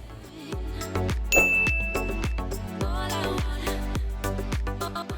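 Bright bell dings ring out one after another in a steady, quick rhythm, each with a clear metallic ring that overlaps the next, loud and alone.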